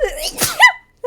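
One sharp sneeze, close and loud, followed by a short pause and a brief spoken word.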